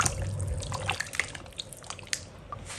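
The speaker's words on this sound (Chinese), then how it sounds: "我再把排骨洗一洗" Pork ribs are rinsed clean under running water in a kitchen sink. Water splashes and drips steadily and close by, with no voices.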